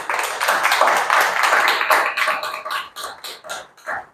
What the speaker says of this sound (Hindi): ताली बजाओ, मुस्कुरा के।